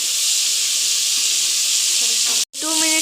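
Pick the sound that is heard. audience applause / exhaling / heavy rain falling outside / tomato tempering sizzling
tomato tempering sizzling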